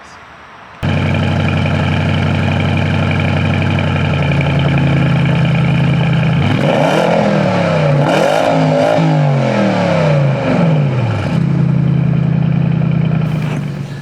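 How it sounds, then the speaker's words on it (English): A 2020 Porsche Panamera Sport Turismo GTS starts with a sudden loud catch, settles into a steady deep idle, then revs sharply several times with rising and falling sweeps before dropping back to idle. "Now that we have started the car"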